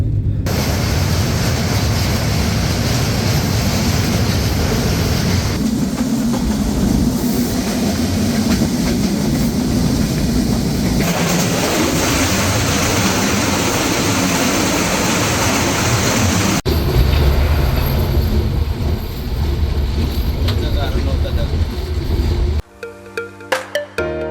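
Chitra Express train running from Khulna to Dhaka, a steady loud rumble of wheels and carriage noise with rhythmic rail clatter throughout, ending in a few sharp jolting knocks.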